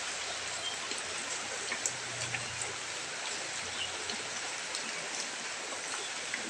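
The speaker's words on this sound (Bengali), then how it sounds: "আমার ফোনেতে এমনিই বৃষ্টি পড়ছে" Steady rain falls, a dense, even hiss of drops on surfaces that stays constant and fairly close throughout, with a few brighter drip ticks on top and no one speaking.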